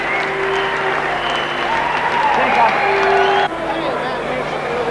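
A cricket ground crowd applauds Steve Waugh reaching 150, sustained loud clapping and cheering filling the stands before it drops back partway through, with commentary voices over it.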